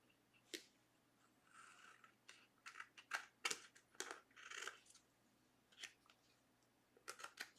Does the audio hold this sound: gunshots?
no